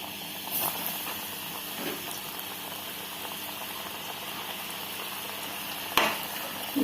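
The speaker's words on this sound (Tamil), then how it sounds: "ஃப்ரை ஆனால் போதும், கிறிஸ்பியாக ஃப்ரை ஆனால் போதும்" Chicken momos deep-frying in hot oil, a steady even sizzle and hiss throughout, with a few faint clicks from handling.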